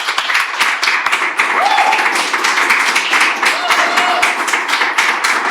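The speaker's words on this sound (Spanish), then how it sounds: "Yo creo que se merece un fuerte aplauso" A crowd claps in a steady patter of many hands, a fairly close and loud applause with voices talking over it.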